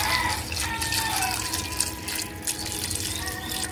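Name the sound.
water being poured into a pressure cooker with meat, corn and taro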